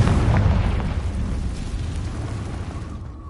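A Confringo blasting spell goes off in a video game, a loud, deep explosive boom that rumbles and slowly fades over a few seconds.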